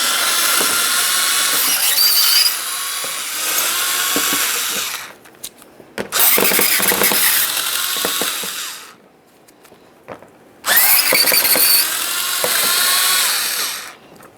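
A power tool whirs in loud sustained bursts while removing 7mm mounting bolts from the radiator cooling fan assembly on a 2006-2012 Ford Fusion, three long runs separated by quieter gaps with clicks and clanks.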